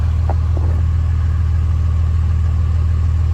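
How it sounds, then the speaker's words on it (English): A Dodge Ram with a 5.9 Cummins diesel sits at a low idle around 800 RPM, giving a steady, loud, deep rumble with no talking. "we're still at a low idle here, 800 RPM"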